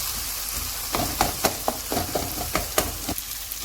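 Softened tomatoes are mashed in a cooking pan, with a series of soft rhythmic pressing thuds and squelches over a constant sizzle, close and moderately loud.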